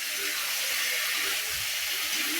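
Beans and boiled potatoes frying in a pan, giving a continuous close hiss of sizzling oil with no speech over it.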